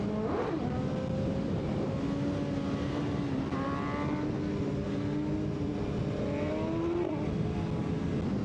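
Motorcycle fitted with a full Akrapovic titanium exhaust line, revving and changing pitch as it passes by, heard at a moderate distance over steady outdoor background noise.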